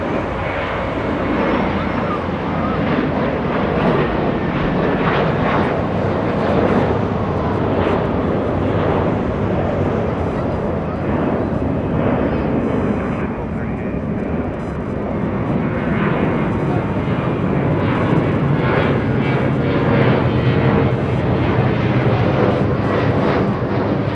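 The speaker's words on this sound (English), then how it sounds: "Qantas QF93 from Melbourne, arriving in the north." Qantas flight QF93 from Melbourne arriving at Los Angeles International Airport, a steady, loud jet engine roar with broadband wind-like rush lasting the whole stretch, swelling slightly near the end.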